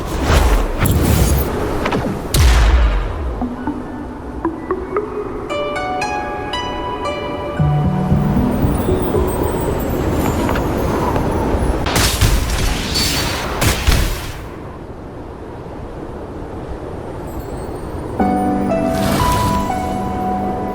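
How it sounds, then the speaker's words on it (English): An explosion blasts an opening in a cliff in the Wuthering Waves video game. Several heavy booming bursts and crashing debris roll over a loud, continuous game soundscape with music. "Perhaps we can create an opening in this disk with an explosion."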